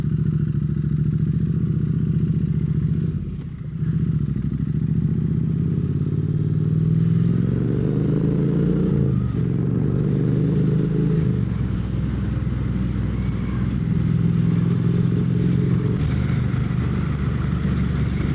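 A motorcycle fitted with new progressive fork springs on a test ride, its engine droning loud and continuous at close range with wind rush, shifting pitch as it accelerates, a brief dip near the start, no speech.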